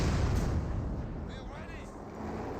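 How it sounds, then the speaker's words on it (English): Mortar shells landing in the World War II strategy game Company of Heroes 2, a steady rumbling barrage of muffled booms under continuous battle noise, with a commentator talking over it. "And now got mortar hits there"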